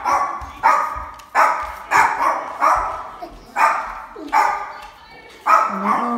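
A Cane Corso waiting at the door barks in a series of about eight loud, close, deep woofs, evenly spaced with brief pauses and a small whine between them, and no talk over them.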